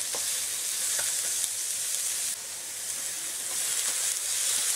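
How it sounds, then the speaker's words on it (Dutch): Steady, dense sizzling of chicken frying in a hot pan with a little oil over high heat, a continuous crackling hiss with a few brief pops, close and fairly loud throughout. "Met een hoge vuur even snel bakken"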